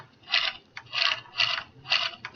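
Mechanical ratcheting sound effect from a toy figure whose legs are moved, four short clicking bursts in a steady rhythm, close and fairly faint.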